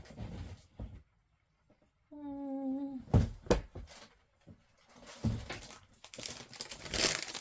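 Scrap paper is crumpled and tossed into a garbage bin, giving bursts of crinkling and crunching with a few dull thumps. A brief tonal hum sounds partway through.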